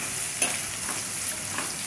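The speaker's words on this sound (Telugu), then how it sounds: "తర్వాత నెయ్యి వేసుకోవాలి. పచ్చిమిర్చి, ఆనియన్ వేసుకొని" Green chillies and onion fry in ghee with a steady, dense hiss and crackle and a faint stir or two, close and continuous.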